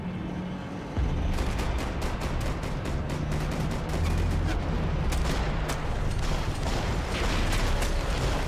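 Gunfire in the Max Payne 3 video game: rapid, repeated sharp shots in steady bursts over a heavy, loud rumbling action backdrop, with a sudden boost in intensity after the first second.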